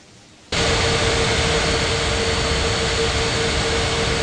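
A jet airliner taking off from runway 20 left in an air traffic control game, its engine roar starting abruptly and then holding as a loud, steady broadband rush with a faint whine on top, near and continuous.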